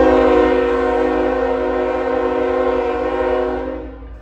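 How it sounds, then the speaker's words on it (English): A long southbound CSX freight train on the Toledo subdivision gives a loud, sustained horn blast close by over a low rumble, the tone holding steadily before fading slightly at the end. "Got another CSX coming south here. This one's a little longer."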